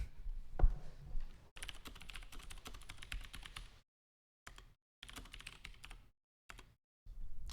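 Rapid bursts of clattering keystrokes on a computer keyboard during a StarCraft II tournament break, close and crisp, with short silent pauses between flurries of typing.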